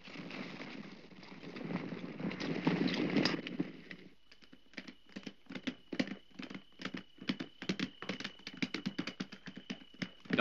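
Hooves clip-clop in a steady, fairly quick rhythm after a few seconds of low rumbling background, each strike sharp and close.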